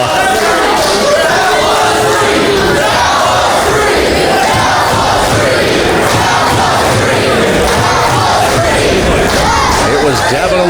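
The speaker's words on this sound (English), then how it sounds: "The crowd seems to think it was a 3 count, as does Mike Outlaw." A wrestling crowd at a Kansas City pro wrestling event erupts in loud cheering, yelling and shouting over a near three count, a dense, continuous roar of many voices close around the ring.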